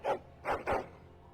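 A dog in Dragon Age: Origins gives three short whimpering yelps, close and fairly quiet, the last two coming quickly together.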